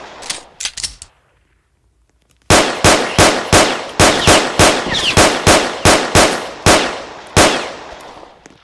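Rapid video-game gunfire: a brief scattered volley, a short silence, then a steady run of about fourteen sharp, loud shots at a fast, even rhythm, with no talk.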